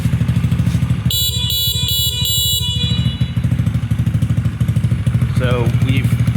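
A Honda Z50 motorcycle fitted with a swap kit for a Chinese small-displacement engine sounds its horn in about four quick, evenly spaced beeps over a steady idling engine, close and loud.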